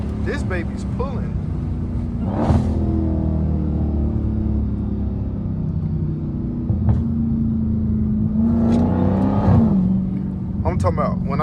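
A straight-piped Dodge Hellcat rumbles loudly from inside the cabin, its deep exhaust drone swelling as it pulls hard, with a couple of rising surges of acceleration, while someone talks over it.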